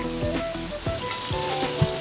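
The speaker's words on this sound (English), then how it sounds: "You can hear that sizzling now that there's moisture added to the pan" Sausage, mushrooms and wet tomatoes sizzle and crackle in a frying pan, a close continuous hiss with occasional stirring scrapes and small pops.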